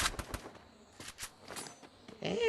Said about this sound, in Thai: ยิงไม่เข้าหัว